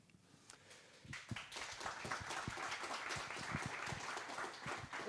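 Audience applause fills a hall at a live-streamed event, starting after a second of quiet and continuing as steady, dense clapping from a sizable crowd.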